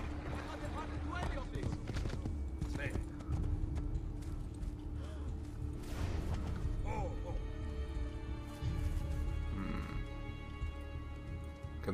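Rhythmic clip-clop of horse hooves at a steady run in Assassin's Creed 2, fairly loud, over a busy game soundscape with music and effects.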